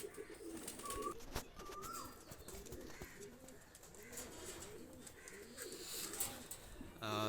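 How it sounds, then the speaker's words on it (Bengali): Pakistani high flyer pigeons released, soft cooing and chirps in a quiet, faint setting, with scattered rustles and clicks around them. "দুটা কবুতার আমি ছেড়ে দেখাচ্ছি"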